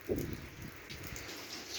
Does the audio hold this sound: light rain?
yes